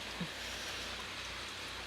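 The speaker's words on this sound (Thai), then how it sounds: "ฝนโปรยโปรยฝนตก ไม่แรง" Light rain falls steadily in a soft, even hiss, with no voices.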